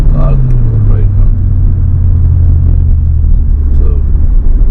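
Cars passing on a road, a steady loud rumble of traffic with engines sweeping by close, while someone talks over the noise throughout.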